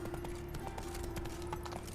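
A horse galloping in The Witcher 3, a quick steady clip-clop of hooves under a low game soundscape, running throughout at moderate level.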